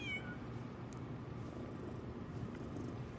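A cat in the video game Lies of P, soft purring and a faint meow low in the mix over quiet background ambience, with no talking.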